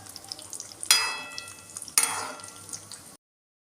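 Cashews fry in hot oil with a soft crackle, broken by two sharp bursts of sizzling that slowly fade before the sound cuts off.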